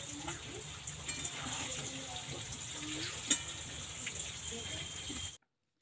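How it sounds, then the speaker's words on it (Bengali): Chicken pieces frying in hot oil for a dhaba-style chicken dish, a steady low sizzle and crackle that carries evenly throughout before cutting off abruptly near the end. "এখন গরম তেলের মধ্যে মাংসটা দিয়ে দিলাম।"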